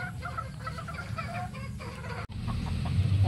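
White stag roosters in a fly pen cluck and chatter steadily, with overlapping calls from several birds over a constant background hum. A brief break near the middle.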